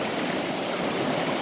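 Flowing stream water rushing steadily and close by, a dense unbroken wash with no pauses and no voices.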